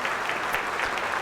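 Brief burst of audience applause at a religious quiz competition grand finale, steady dense clapping from a crowd lasting about a second, fairly loud and without talk.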